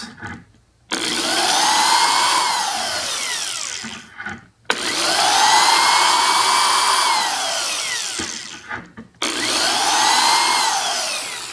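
A power drill whines loudly in three long bursts, speeding up and slowing down as it bites into the workpiece, marking hole positions on a homemade core holder, with short quiet pauses between runs.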